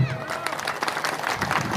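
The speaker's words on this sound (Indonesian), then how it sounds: "Tepuk tangan dulu" An audience at a public religious talk breaks into applause, a dense burst of close clapping from many hands, with crowd murmur mixed in.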